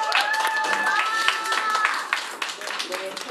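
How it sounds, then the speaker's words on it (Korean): An audience claps to welcome a singer at a café's first-anniversary concert, a dense patter of applause mixed with voices and cheering. "다 같이 큰 박수로 환영해 주시기 바랍니다."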